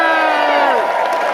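A crowd at a city event celebrating the Washington, D.C. organizing committee's bid for the 2022 Gay Games cheers and whoops loudly, with raised voices over a steady wash of audience noise.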